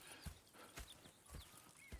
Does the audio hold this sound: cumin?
no